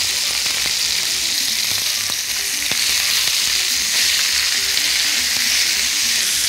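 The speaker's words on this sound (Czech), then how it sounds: "Necháme ještě krátce probublat" Pan of minestrone vegetables with cabbage cooking hard, giving a dense, steady hiss of sizzling and bubbling, close and loud, with faint clicks and no voices.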